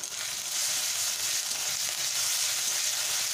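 Ginger-garlic paste being mixed into hot oil in a frying pan, giving a steady, close, fairly loud sizzle that holds evenly throughout with no talk.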